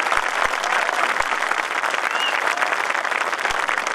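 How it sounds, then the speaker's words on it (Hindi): Loud, sustained applause from a large crowd at a Hindi poetry gathering in Dehradun, a thick, continuous roar of clapping with a few sharp thumps near the start. "उठाइए जोरदार तालियां।"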